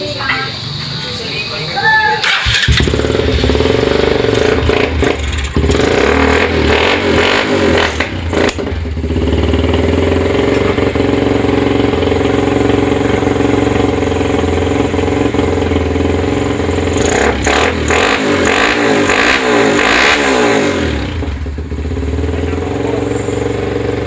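Kawasaki Rouser NS 150 motorcycle engine fires up after a brief crank, then runs steadily with a loud, rough idle and a couple of throttle blips that rise and fall, close by.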